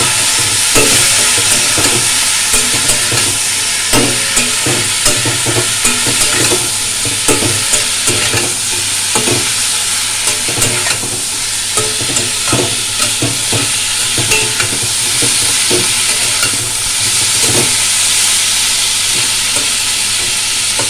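Spice paste sizzles and fries in a pan while being stirred and sautéed for chhanar dalna, with steady loud crackling and repeated scraping stir strokes throughout and no talking.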